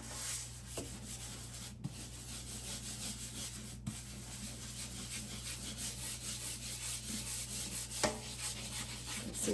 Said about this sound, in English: using your scrub brush, and start sanitizing your sink